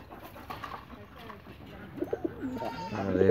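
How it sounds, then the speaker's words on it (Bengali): Racer pigeons coo softly from close by in a loft, low throaty calls rising toward the end, while a person talks nearby. "এগুলো হচ্ছে রেসার কবুতর"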